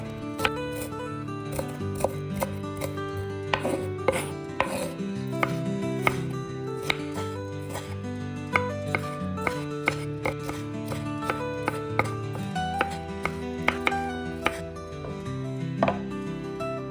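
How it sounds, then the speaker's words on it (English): A knife finely chopping one onion and one tomato on a board for a spicy Sikkim-style aloo thukpa. Quick, uneven taps repeat through the whole stretch, loud and close, with no voices. "Take 1 medium-sized onion and 1 tomato. Finely chop them."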